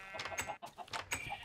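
A chicken in Minecraft with the Tekkit modpack clucks repeatedly in short, quick, nasal bursts, close and fairly quiet, with a brief pause midway.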